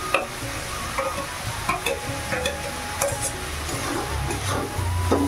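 Spices with salt, turmeric, green chilli, dried red chilli paste and cumin paste being stir-fried in a pan, a steady sizzle broken by repeated scraping strokes of a spatula, close and moderately loud.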